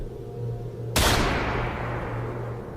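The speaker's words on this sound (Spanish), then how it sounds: "Un disparo se escuchó a lo lejos, en lo profundo del bosque." A single gunshot cracks out as a sudden loud blast, then rolls into a long decaying echo over a low steady hum, set deep in a forest in a horror tale.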